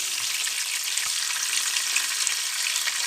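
Fish frying in a pan of hot oil gives a steady, even sizzle that carries on unbroken from start to finish, with no voices.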